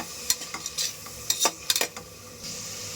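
Sliced onion with ginger-garlic paste being sautéed in a pan, with a series of sharp spatula scrapes and clinks against the metal over a soft sizzle that grows steadier toward the end; no one speaks.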